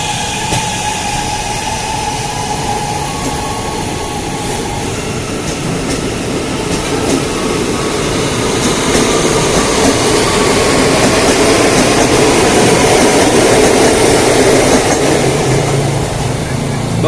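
Jabodetabek commuter train pulling into a busy station, a loud sustained roar of wheels and carriages building in intensity, with faint squeals and station crowd noise beneath.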